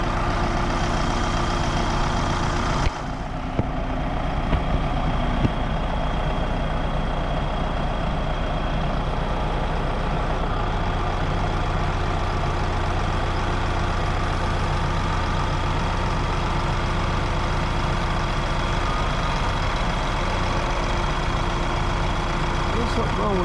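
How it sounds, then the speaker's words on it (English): A farm tractor engine idles steadily with a low heavy drone, running rough and slow to pull away, with a brief shift in its tone early on and no voices over it. "Something wrong with that tractor there. It doesn't take off easy."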